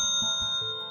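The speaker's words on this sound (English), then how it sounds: "I still hear the bell. A clear chime, then another." A clear bell chime in a spoken story, a bright ringing tone that repeats in quick soft strikes and sustains throughout, close and alone.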